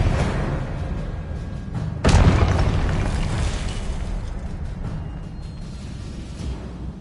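A Confringo explosive spell goes off in Hogwarts Legacy, played on PlayStation 5: a single loud, close boom at about two seconds, rising sharply out of a busy game background and fading into a long rumbling tail.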